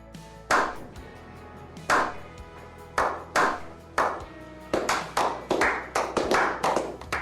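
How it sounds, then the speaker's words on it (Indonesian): Scattered hand clapping in short bursts, a few sharp claps at a time, then quicker clusters toward the end, close and fairly loud with no voices, beside an old Quick 850D hot-air rework blower. "Aplaus buat Simbah Quick yang udah 10 tahun lebih katanya"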